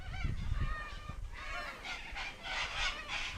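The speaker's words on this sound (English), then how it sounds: "oh, it's the parrots." Parrots calling with loud, raucous honking squawks repeated over several seconds, some nearby, with a harsh nasal quality throughout.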